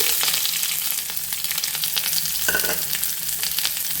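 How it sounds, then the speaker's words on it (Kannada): Large sliced onion sizzling in hot oil for a Mangalore-style chicken curry, a steady dense crackle with stirring scrapes throughout, close and fairly loud with no talk. "ಒಂದು ದೊಡ್ಡ ಈರುಳ್ಳಿನ ಸ್ಲೈಸಾಗಿ ಕಟ್ ಮಾಡಿ ಇಟ್ಕೊಂಡಿದ್ದೀನಿ, ಅದನ್ನು ಹಾಕ್ತಾಯಿದ್ದೀನಿ"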